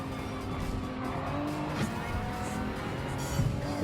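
Tuned 2022 Genesis G70 3.3T AWD sedan driving, a moderate engine drone with road and tire noise rising and falling, heard from close range without talk.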